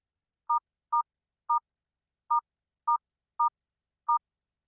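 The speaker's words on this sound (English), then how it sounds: "Enter the event panelist numeric password, followed by pound." Touch-tone keypad beeps as a numeric password is entered on a phone line to join a municipal public hearing teleconference, seven short, clean tones in an uneven rhythm with silence between them and no talk.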